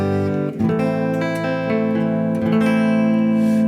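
A Gibson Les Paul Deluxe electric guitar rings out in sustained, overlapping notes and chords with a mild, mellow tone, played alone, with fresh strums near the start and middle.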